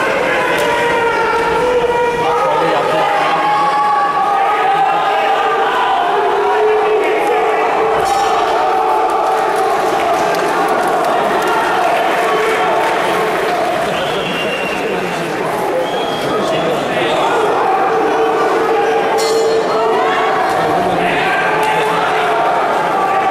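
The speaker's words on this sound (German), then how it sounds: "Publikum." Spectators at an intercontinental world title kickboxing fight cheer in a loud, sustained roar of many voices that swells and holds without a break.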